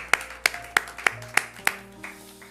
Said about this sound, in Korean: 우리 주님께 영광과 감사의 박수 한번 올려드릴까요?